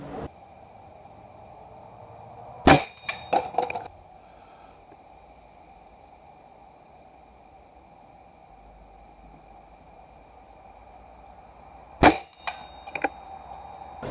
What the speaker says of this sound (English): This is the Remington Tyrant, and let's get started straight away by shooting some stuff at 50 yards.